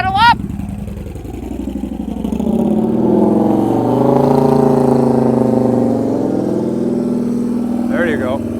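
A motorcycle engine revving as the rider throttles up, rising into a sustained mid-pitched drone that swells and holds, with brief speech at the start and end.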